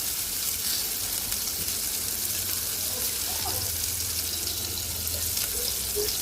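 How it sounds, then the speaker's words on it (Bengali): Onions frying in oil in a pan, a steady hissing sizzle that continues evenly throughout at moderate loudness. "পেঁয়াজ দিয়ে দিলাম পেঁয়াজটা ভালো করে ভাজবো"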